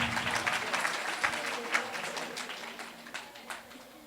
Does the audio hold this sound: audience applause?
yes